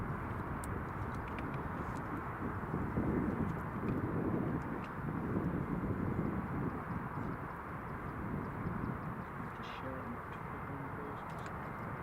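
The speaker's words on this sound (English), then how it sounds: "British Airways A380 just lining up, and Logan A380's just landed." Airbus A380 airliners at Glasgow Airport, a British Airways jet lining up and an Emirates one departing, give a steady, broad engine roar that swells slightly midway, heard continuously at a moderate distance across the airfield.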